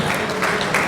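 Audience applause breaks out after a call for a big round of clapping during a sales-closing training talk, a short dense burst of many hands at close range.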